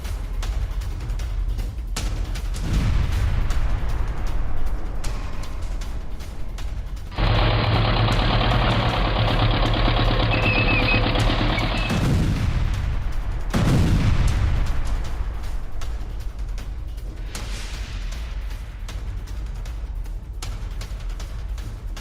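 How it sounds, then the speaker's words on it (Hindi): Russian drone strike on a Ukrainian tank in the Donetsk area: a rumbling engine-like drone in the background, then a dense, loud burst of noise from about 7 to 12 seconds as the explosion destroys the tank, followed by lower rumbling. "रूसी ड्रोन ने यूक्रेनी टैंक पर अटैक किया।"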